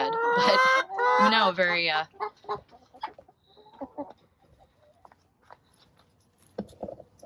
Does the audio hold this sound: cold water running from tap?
no